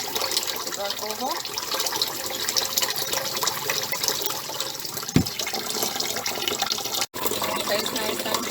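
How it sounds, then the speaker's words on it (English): Tap water pours steadily over white rice being rinsed in a bowl, a continuous splashing flow with a brief knock partway through. "let it run until the water runs clear. Let it run over."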